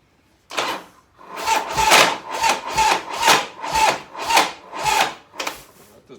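A 1985 Harley-Davidson FXRS with an Evo engine cranking on a dead battery: the starter turns over sluggishly in a steady series of about ten rasping, grinding surges, each sagging between strokes, close and fairly loud with no talking.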